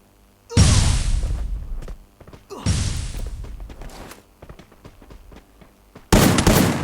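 Loud single gunshots in a Lone Wolf 1v1 mobile shooter match crack out close, each followed by a long decaying boom, with faint clicks between shots and a third shot at the end.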